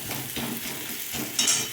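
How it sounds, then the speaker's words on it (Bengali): Onion fries in a pan with crushed garlic and ginger, giving a soft steady sizzle with faint stirring scrapes, quiet and close, no voices. "পেঁয়াজটা মোটামুটি ভাজা হয়ে গেছে"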